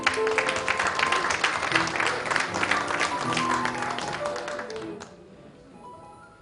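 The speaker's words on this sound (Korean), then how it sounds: "여러분 박수 부탁드리겠습니다." Applause from attendees at a Korean horse industry association's leadership inauguration ceremony, a sustained burst of clapping with faint tonal sounds beneath, tapering off toward the end.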